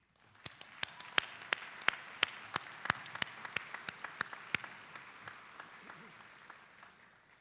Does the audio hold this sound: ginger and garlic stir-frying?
no